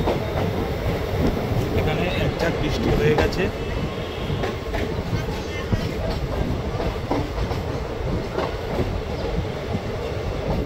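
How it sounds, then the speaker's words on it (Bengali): A passenger train rolls steadily on its rails on the Kolkata to New Jalpaiguri run, arriving at Pakur station after rain, a continuous close rumble with faint rhythmic clatter under a man's speech. "এখন ট্রেন এসে পৌঁছেছে পাকুড়"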